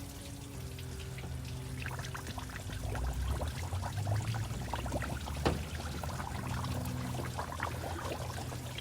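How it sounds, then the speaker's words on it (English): Fresh water from a garden hose runs into a car's cooling system to flush out old coolant, a steady close pour and trickle with splashing that continues throughout. "with a hose is run some fresh water in and flush that through"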